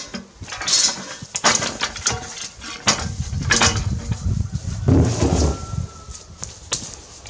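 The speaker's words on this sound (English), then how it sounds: "Move this trolley." A metal trolley is shoved across a workshop floor, giving a string of clanks, rattles and metallic knocks, close and irregular, with brief rolling noise between hits.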